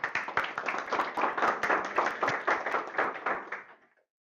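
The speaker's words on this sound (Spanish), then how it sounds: "Un aplauso para Marcelo" A small audience claps for several seconds, a dense patter of hands that dies away at the end.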